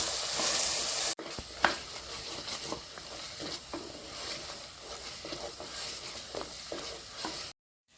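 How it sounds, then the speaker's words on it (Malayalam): Masala with turmeric powder fried in a pan for goat intestine curry, a continuous close sizzle with repeated light spatula scrapes, cutting off abruptly near the end. "കുറച്ച് മഞ്ഞൾപ്പൊടി ചേർത്ത് കൊടുക്കുന്നുണ്ട് ഈ മസാലയൊന്ന് നന്നായി വഴറ്റിയെടുക്കുന്നുണ്ട്"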